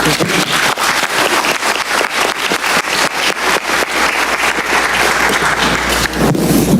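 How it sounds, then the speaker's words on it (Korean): A large audience at a Korean national economic event gives a sustained, loud round of applause, a dense wash of clapping from many hands that stays steady for several seconds with no talking over it. "우리 모두 대통령께 감사와 격려의 큰 박수를 한번 하면 어떻겠습니까?"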